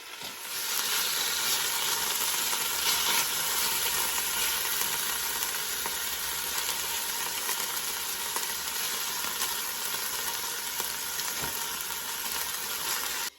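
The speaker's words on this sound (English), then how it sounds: "So I've seared all of the beef and I'm just going to set that to one side" Beef chunks searing in a hot pan on an Aga range cooker for beef bourguignon, a continuous steady sizzle and crackle of frying, moderately close, with no talking.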